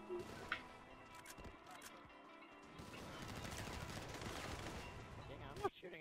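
Gunfire in GTA 5 during a capture match: quiet bursts of rapid shots, with a denser volley near the end, set under faint background game noise.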